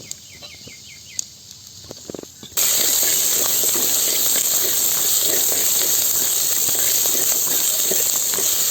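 Peeled shallots drop into a hot pan and burst into a loud, steady sizzle that continues without a break, after a quieter stretch of faint kitchen clatter.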